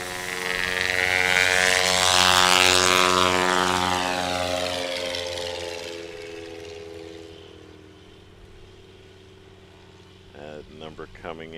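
STOL competition propeller airplane taking off at Patriot Airpark, Pocola, Oklahoma, a loud close engine roar that rises then fades into the distance, with a commentator's voice at the end.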